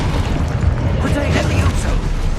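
A Deposo spell cast in the video game Hogwarts Legacy: a dense, booming magical blast with a rumbling low end, sustained and loud through the whole moment amid steady game noise.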